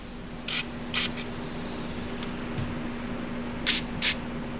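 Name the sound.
spraying brake cleaner into a threaded hole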